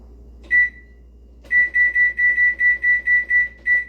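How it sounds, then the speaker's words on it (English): A digital kitchen-style timer being set, giving one clear electronic beep followed after a pause by a quick run of about ten evenly spaced beeps, close and distinct over a quiet background. "sorry, setting my timer."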